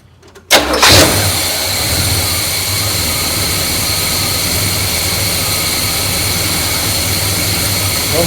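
A neglected 1972 big block V8 fires up and settles into a loud, steady high idle, its roar held near and constant without talk.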